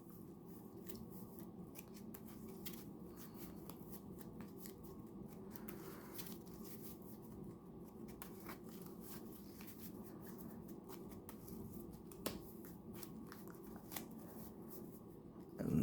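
A deck of Yu-Gi-Oh cards being shuffled and cut, a steady soft riffling rustle with occasional sharper card snaps, close and fairly quiet throughout.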